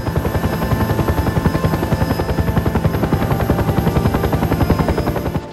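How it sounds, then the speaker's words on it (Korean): Two military helicopters fly close overhead in a war film, a loud, steady rhythmic thump of rotor blades with a continuous engine whine throughout. "상부에서 공중지원 허가가 떨어지자 헬기 두 대가 출동했고"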